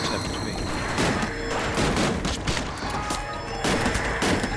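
Rapid gunfire from a Unity-built video game in development, dense overlapping shots and impacts crackling continuously at a loud, steady level with no pauses.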